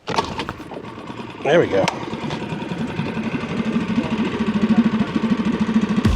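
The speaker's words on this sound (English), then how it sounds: "I try to get this gas motor started here" A small gasoline outboard on a tiny boat is pulled to start, catches, and settles into a close, buzzing idle with a quick, throbbing rhythm. Someone speaks briefly as it starts.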